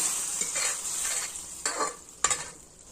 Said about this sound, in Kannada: ಇದಕ್ಕೆ ಈಗ ಒಗ್ಗರಣೆ ಹಾಕ್ಕೊಳ್ತೀನಿ.